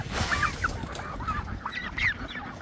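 Farmyard turkeys and ducks calling near a coop, a scatter of short honking and quacking cries over a rough outdoor background.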